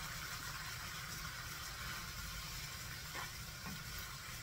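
Garlic butter steak with vegetables cooking in a pan, a soft, even sizzle heard close and alone for a few seconds, with a couple of faint utensil taps.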